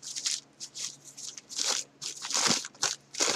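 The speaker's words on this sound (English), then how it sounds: "I'm crumpling it up." A page of glossy advertisement booklet paper is crumpled by hand, producing a series of close, crisp crinkling bursts in uneven clusters, fairly quiet and with no talking.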